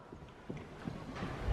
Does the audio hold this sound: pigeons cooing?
no